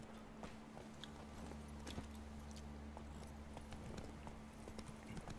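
Horse hooves in The Witcher 3 clip-clop at a steady walking pace, quiet and fairly close, over a low hum of game ambience.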